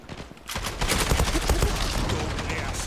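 MPT-76 rifle fire in the shooter game Zula, a dense rapid burst of gunshots starting after a short pause and continuing steadily, with a voice briefly over it.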